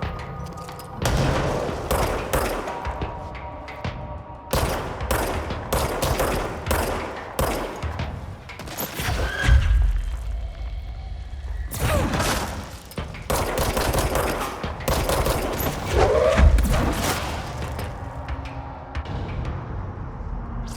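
Sustained gunfire and grenade blasts from the shooter video game Control, with dense rapid shots and heavy booming thumps continuing almost without pause for about twenty seconds, loud and up front.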